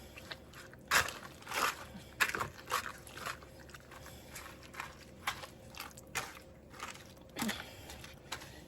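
A dog named Bailey chews a piece of breadcrumb on a kitchen floor, giving soft, close crunches and bites in an irregular series of about a dozen snaps amid quiet surroundings.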